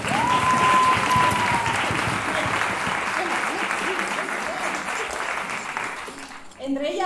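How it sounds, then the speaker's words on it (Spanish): Crowd applause at a university tuna music competition in Madrid, loud and sustained, with a brief tone and some voices early on, tapering off near the end. "Un aplauso para Murphy."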